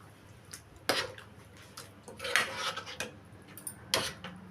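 A metal spoon stirs prawn and gongura curry in a cooking pot, making sharp, irregular clinks and scrapes against the pot at a quiet, close level, with no talking.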